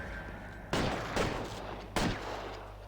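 Three sharp, loud gunshots from the L.A. Noire video game on Switch ring out alone, spaced roughly a second apart, each with a short echoing tail.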